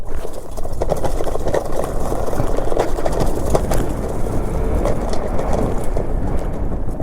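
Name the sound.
electric dirt bike (FVKING E6) riding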